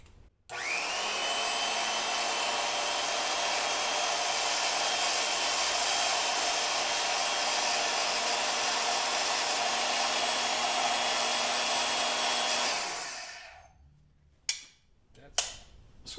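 Portable bandsaw mounted on a vertical stand cuts through a scrap of junky maple, a loud steady whining roar for about twelve seconds before spinning down, followed by a couple of sharp knocks.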